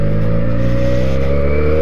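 A Benelli TNT 300 motorcycle engine held at high revs near peak torque, a loud, steady, close-up drone with a slowly rising pitch, no talk over it.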